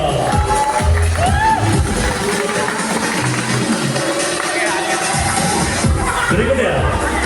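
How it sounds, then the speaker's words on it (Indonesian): A studio audience cheers and applauds on an Indonesian entertainment talk show, a loud, dense crowd roar with clapping that swells and fades across the clip, mixed with voices. "Tepuk tangan untuk Wulan Guritno."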